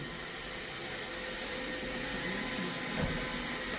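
An iRobot Roomba robot vacuum and mop combo (Y0140) runs close by, a steady whirring suction hum with a faint whine, holding constant throughout without speech.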